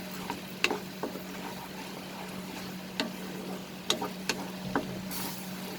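Ginger garlic paste frying with onions in a pan, a quiet, steady sizzle with scattered soft clicks and stirring taps over a low hum.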